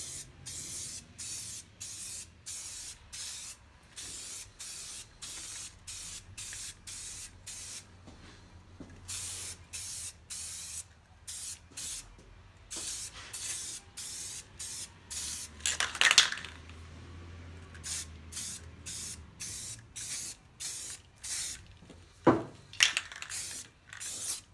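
An aerosol can sprays a light first coat of primer onto wheel rims in rapid short hissing bursts, with a few longer sprays, close and fairly quiet, separated by brief pauses.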